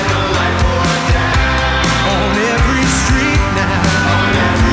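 Austin-Healey 100S, a rare race-bred English sports car, with its engine running loud and close throughout, a dense rumbling tone rising and falling with the throttle, on a damp English morning.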